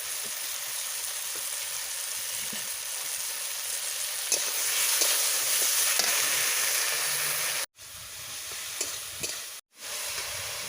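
A paste of ground cumin, coriander and ginger fries in a pan for a drumstick fish curry, giving a steady close sizzle with scraping stirs that briefly cuts out twice near the end.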